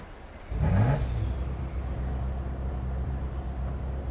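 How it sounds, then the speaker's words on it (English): A loud race car in the Assetto Corsa EVO racing simulator on slick tyres barks into a sharp rev, then settles into a steady, heavy rumbling drone close by. "that's a race car. That's a very loud race car"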